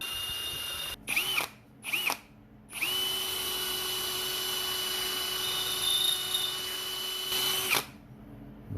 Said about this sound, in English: Also got a little stone on the old drill thing happening, so I'll give a couple of them a go and see how far we can get.